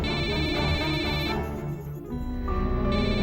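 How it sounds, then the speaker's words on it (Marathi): A phone ringtone plays loudly and alone, a bright repeating electronic melody that shifts pitch partway through. "कामिनीचा फोन."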